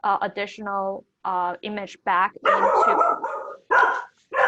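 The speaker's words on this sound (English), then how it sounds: "apologize for my dog." A dog barks and yips several times in short bursts, loud and close, mixed in with someone speaking over a video call.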